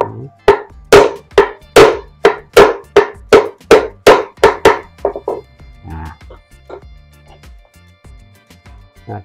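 A hammer taps a metal part inward while building a spark-plug TDC timing tool, about a dozen sharp, evenly spaced, loud strikes, followed by a few lighter, scattered knocks and handling noises.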